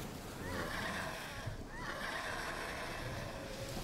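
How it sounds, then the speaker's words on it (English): A horse whinnies twice inside a video game, a rising, wavering neigh that is fairly faint beneath steady ambient wash and a low murmur of game sound. "Why do they have a horse sound in this thing?"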